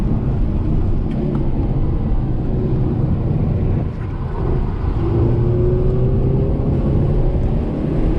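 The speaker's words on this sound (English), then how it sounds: "you can even hear how late that I'm getting on the throttle, which is costing me time" A Mazda 3 on track at Oregon Raceway Park: a steady roar of wind and road noise while coasting, then a rising engine note as the throttle comes on partway through.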